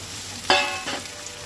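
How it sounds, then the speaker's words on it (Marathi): Finely chopped onions hit four spoons of hot oil in a pan on a gas stove for a Goan brinjal tonak, giving a sudden sharp sizzle that settles into softer frying and stirring. "2 मिनटां ते तेलार परतून घेता।"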